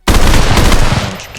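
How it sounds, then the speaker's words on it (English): An M4 rifle in the VR shooter Ghosts of Tabor fires a rapid, loud burst of close shots starting abruptly and hammering on for over a second before trailing off. "the M4 was very, very nice to shoot"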